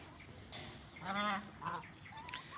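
Hens kept through a harsh winter let out a few short, nasal, honking clucks close by, spaced irregularly over faint background noise.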